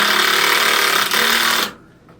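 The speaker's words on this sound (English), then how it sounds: "you have an impact driver, and very sharp screws" Impact driver sinking sharp self-tapping screws during fireplace work, a loud, continuous rapid hammering buzz that runs nearly two seconds, dips once briefly, then cuts off into quiet.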